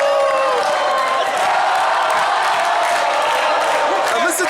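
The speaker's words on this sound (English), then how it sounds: "Now listen to this capacity crowd." A capacity crowd at a high school volleyball semifinal, held in a college gym, roars and cheers loudly and continuously, a dense wall of voices filling the hall.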